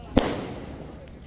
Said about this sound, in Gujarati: તો મયુ બાબા પણ ફટાકડા ફોડવાનું ચાલુ કરી દીધું છે